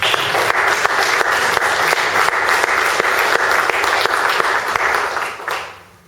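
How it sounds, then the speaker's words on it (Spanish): A church congregation gives the Lord loud, sustained applause, a thick, continuous roar of many hands clapping up close that holds steady, then tapers off at the end. "Dale un fuerte aplauso al Señor."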